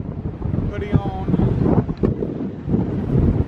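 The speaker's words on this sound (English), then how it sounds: "really windy out here" Loud gusty wind buffets the microphone in low rumbling bursts on a cruise ship deck, with brief voice fragments caught under the roar.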